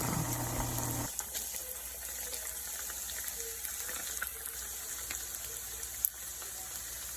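Thick bacon fries in a pan toward crispness, giving a steady, dense sizzle and hiss throughout, with a slightly louder opening second and no talking.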